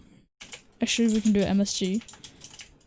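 Computer keyboard typing while writing code for a Roblox Discord bot, quick clustered keystrokes mixed in under a man's speech.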